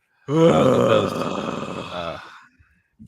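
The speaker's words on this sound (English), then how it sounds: "why are you yawning?" A person gives a long, loud yawn with a groaning, voiced quality, rising quickly and trailing off over about two seconds, close to the listener.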